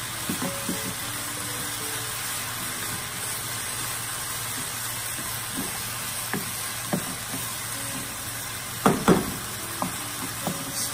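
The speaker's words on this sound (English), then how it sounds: "stir until the onions translucent" Garlic and candlenut paste fries with onions in a hot pan, a steady loud sizzle with scattered scraping stir clicks and a few sharper knocks near the end, no voices.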